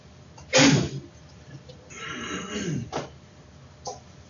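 A single sharp sneeze bursts out in a quiet classroom, followed by faint murmuring and a softer throat-clearing sound.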